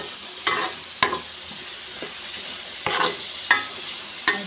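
Fish curry masala for a pointed gourd and hilsa curry stirred in a pan, a low sizzle broken by six sharp scraping strokes of a spoon at irregular intervals.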